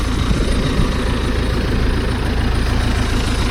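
An MTZ 1025.2 tractor drones steadily while pulling a Hermes 2.7 disc harrow through a wet soybean field, a loud continuous low engine rumble with no voices.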